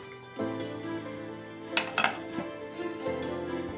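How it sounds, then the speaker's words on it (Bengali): A lid goes onto a cooking pot of beef with jackfruit seeds, giving a few close metallic clinks and a brief rattle over a steady background hum, with no talking. "সিদ্ধ না হওয়ার আগ পর্যন্ত একটু ঢাকনা দিয়ে ঢেকে দেব।"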